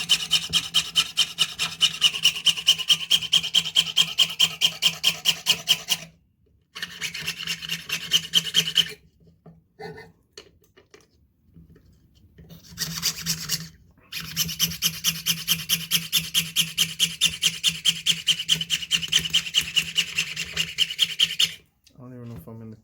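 A hand saw with a lubricated blade cuts through metal in fast, regular rasping strokes, close and loud. It runs in several long bursts separated by short pauses and a bit of quiet handling noise.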